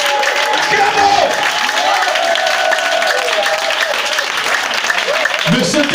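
A church congregation applauds in acclaim during a sermon, dense sustained clapping filling the whole stretch, with a voice or sustained tones running underneath the applause.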